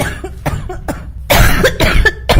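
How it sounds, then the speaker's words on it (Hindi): A woman coughs hard in a staged drama scene, several harsh close bursts coming in quick succession and growing heavier and more continuous toward the end. "आप इतना जोर जोर से क्यों खांस रही हो?"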